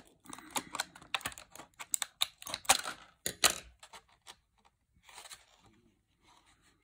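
Sealed packaging is cut open up close with a series of crisp, irregular snipping and crunching bursts that pause and resume, ending in softer rustles.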